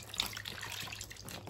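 Water runs steadily from a tap or is poured while a newborn baby's head is washed during a bath, a soft continuous splashing hiss at close range.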